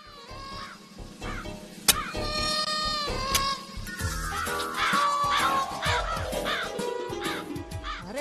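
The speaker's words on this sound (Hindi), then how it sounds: "कौवा काव काव कर रहा है" A crow caws repeatedly in loud, harsh bursts that grow busier toward the end, layered over a dense mix of background noise with a sharp crash near the start.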